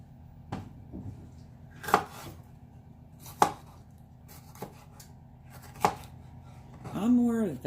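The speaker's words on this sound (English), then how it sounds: "Doing some quick chopping." Quick chopping of food on a board in a home kitchen, a few sharp, separate knife strikes at uneven intervals, close and fairly quiet, ending in a brief rubbing scrape.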